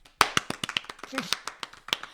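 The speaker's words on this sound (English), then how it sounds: "Let's give him a round of applause." A small group claps in a brief, uneven round of applause, close and loud, with distinct individual hand claps and a little talk mixed in.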